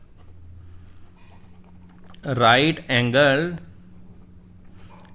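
A pen scratches faintly on paper while answers are written into a math exercise on types of triangles. The soft scraping sits before and after a voice speaking briefly in the middle.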